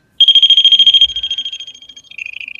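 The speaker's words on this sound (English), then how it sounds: "this is going to make a beeping noise, everybody. So I do apologise because it is loud" A REM pod ghost-hunting device gives off a loud, piercing electronic alarm: fast, even beeps that start abruptly, then shift to a slightly lower, softer run of pulses and finally a quicker, higher stutter.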